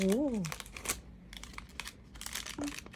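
Paper packaging of a Monster High toy crinkles and tears in a few short rustling bursts, close and fairly quiet. A voice makes brief sounds near the start.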